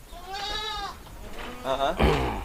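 Goats on a goat farm kept in a narrow, crowded residential alley bleat nearby, two or three wavering calls one after another with faint background noise.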